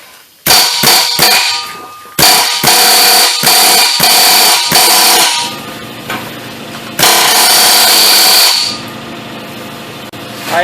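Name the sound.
air hammer busting a spot weld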